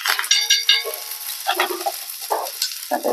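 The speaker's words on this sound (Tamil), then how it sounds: "எக் தோசை திருப்பி பார்ப்போம்" Egg dosa sizzling on a hot pan, crackling and frying loudly up close with stirring and scraping bursts throughout.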